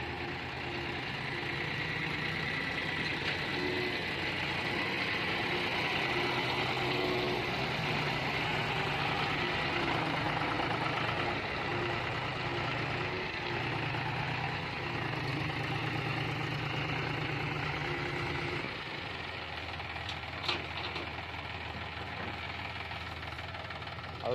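A John Deere or Mahindra Bhoomiputra tractor engine running steadily, a constant mid-pitched diesel drone with a low knocking throb, close and loud, changing tone about two-thirds of the way through.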